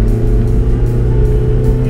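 Mazda Bongo Friendee camper van engine droning steadily at high revs on the highway, a loud continuous low rumble with road and wind noise and no talking.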